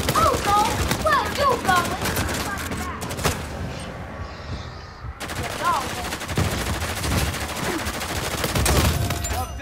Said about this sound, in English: Oh, somebody shot my Hunter. They shoot me